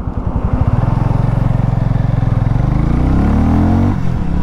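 A 2024 Hero Mavrick 440 motorcycle with an oil-cooled 440cc single engine revs nearby, its exhaust thumping in a fast, steady beat that climbs in pitch then drops back.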